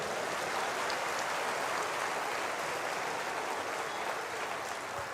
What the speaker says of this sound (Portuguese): Aplauda o Cordeiro agora.